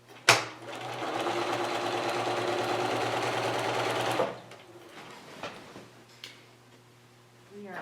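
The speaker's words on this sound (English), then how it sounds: "we're going to put our right sides together and sew along the right side until we get to the very end" A sewing machine runs steadily for about four seconds, stitching along the right side of jelly roll quilt strips, then stops, leaving faint handling clicks and a low hum.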